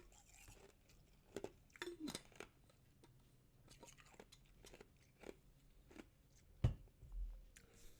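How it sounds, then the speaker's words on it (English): Ice being chewed close to the mouth, a series of sharp crunches and bites, irregular, quiet but crisp, with near silence between bursts. "that was some nice ice ASMR, ice chewing ASMR"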